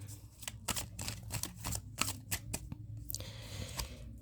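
Tarot cards shuffled by hand, a rapid series of crisp riffling flicks and soft slaps repeating in bursts, close and fairly quiet with no talking.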